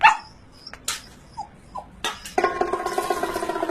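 A dog gives scattered yips and whimpers, then a run of rapid, close barks near the end, with no speech heard.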